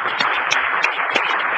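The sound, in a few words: congregation clapping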